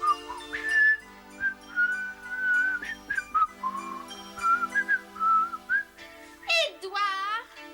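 A man whistles a wandering tune indoors in a dressing room, close and clear, with short warbling phrases and a rising trill at the end.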